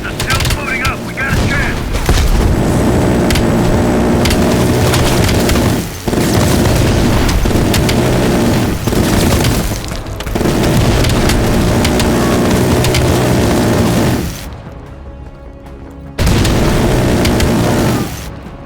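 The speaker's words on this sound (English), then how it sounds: "Hudson, start your bombing run" Heavy explosions and rumbling blasts from a bombing run in the video game Call of Duty: Black Ops Cold War, loud and continuous, with a sudden drop to near quiet partway through before the booming returns.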